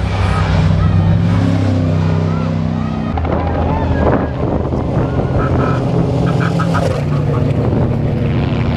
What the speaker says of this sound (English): first truck just coming through.